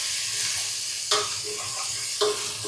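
Ginger garlic paste frying in a pan for a vegetable kuzhambu, a steady broad sizzle with two sharp spoon scrapes as it is stirred, close and alone.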